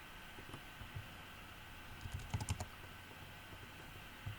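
Quiet keystrokes on a computer keyboard entering distances into CAD software, a few soft scattered taps with a brief cluster of clicks in the middle, heard faintly over a low steady room hum.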